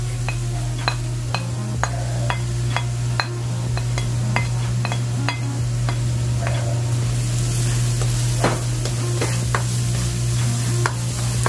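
Garlic sizzles and crackles steadily as it fries in a pan for chicken alfredo, with sharp utensil taps against the pan recurring throughout, close and loud, with no talking.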